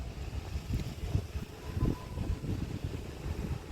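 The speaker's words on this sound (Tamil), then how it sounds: "காற்று அடித்து கொண்டிருக்கிறது" Wind gusting across a village pond during tilapia fishing, a steady low buffeting rumble against the microphone, loud and continuous, with no voices.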